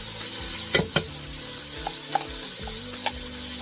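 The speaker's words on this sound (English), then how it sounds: "we're gonna start sauteing after that" Garlic sautés with bacon in a pan, a steady close-up sizzle broken by a few sharp knocks of a utensil stirring against the pan.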